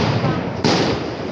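Gunshots or explosions go off at a street protest facing a stage where agitators speak, heard as a dense, roaring crackle of bursts with one sharp, louder blast partway through over a constant wash of noise.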